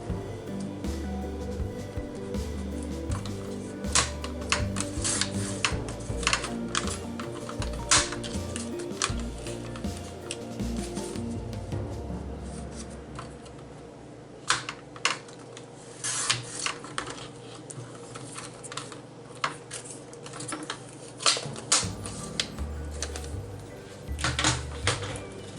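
Paper strips for craft belly bands are scored with a tool, giving repeated faint scraping and tapping strokes over a steady low hum, with clustered bursts throughout and no talking.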